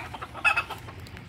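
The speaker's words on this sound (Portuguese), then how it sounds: "Embaixo, gente, tem bastante pintinho embaixo dela." A hen with newly hatched chicks gives a short burst of soft clucks, close and moderately loud, with faint peeping and low farmyard background around it.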